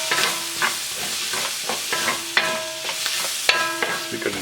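Ginger, garlic and curry powder stirred in a hot pan for masoor dal, a steady close sizzle broken by repeated scrapes and metallic clinks of the utensil against the pan.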